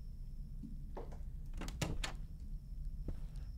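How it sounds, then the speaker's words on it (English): A door in a horror video game shuts with a few soft, muffled thunks and knocks that cluster near the middle, heard faintly over a low, steady background hum. "The door tried to shut on me"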